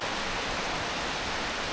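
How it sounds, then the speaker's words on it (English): A big waterfall in a mountain valley roars as a steady, dense wash of noise that holds constant throughout, with no voices. "Big ass waterfall."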